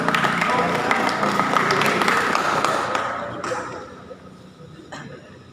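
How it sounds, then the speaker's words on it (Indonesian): Classroom audience of students applauds a student group as it comes forward to present, a dense burst of clapping that is loud at first, then thins and fades over the final seconds with a few stray claps. "Tepuk tangan, ayo tepuk tangan dulu."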